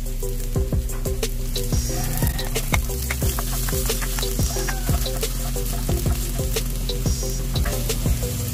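Onions frying in a pan alongside already-fried chicken for a Chicken Marengo dish, a loud continuous sizzle with steady stirring scrapes and clacks of a utensil against the pan.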